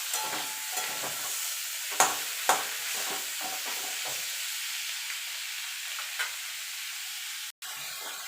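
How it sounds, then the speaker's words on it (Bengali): Bottle gourd leaves fry gently in a pan, a faint steady sizzle broken by occasional soft scrapes and taps of a spatula as they are stirred. "এবার মিনিট খানেক একটুখানি লাউ পাতাটা নাড়াচাড়া করে নেব।"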